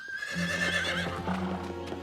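A horse in an animated fantasy series neighs with a long, bright whinny while its hooves clip-clop steadily underneath, both close and loud with no talking.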